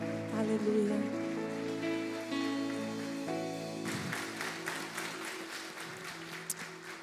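Church congregation applauding during a Christmas musical service, a rain-like wash of clapping that swells in after about four seconds over fading sustained music tones.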